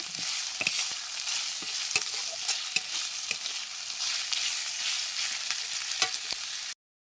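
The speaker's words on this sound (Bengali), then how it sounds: "পেঁয়াজটাকে লাল লাল করে ভেজে নেব।" Onions sizzle and fry in a pan, a continuous bright hiss punctuated by scattered crackles and spoon taps as they are stirred, with no voices, before cutting off abruptly.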